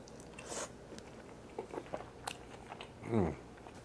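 A bite into a Chicago beef sandwich with jus and spicy peppers, heard as a close, soft crunch and squish followed by quiet chewing in a calm room.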